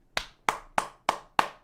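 Five sharp hand claps in a steady, evenly spaced rhythm, close and crisp, each with a brief bright decay and no talking.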